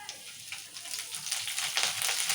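Peanuts frying in hot oil for temple-style pulihora, a steady close crackling sizzle with dense popping throughout, no voices.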